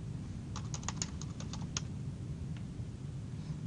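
A short burst of roughly a dozen quick keystrokes as a password is typed on a computer keyboard, then a lone click after a pause, all faint over a steady low hum, no talking.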